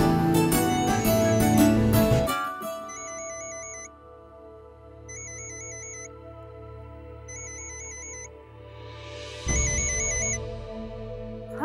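A phone ringtone chiming in repeated short melodic bursts, clear and fairly close, following loud music at the start in a Hindi TV drama household scene.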